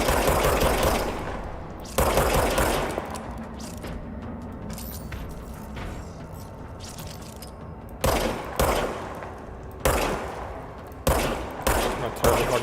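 Loud bursts of gunfire from a gun in a game, several sharp volleys separated by quieter gaps, each burst a dense crackle of rapid shots.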